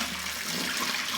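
Water gushes steadily from a tap, a constant bright rushing splash with no pauses or voices.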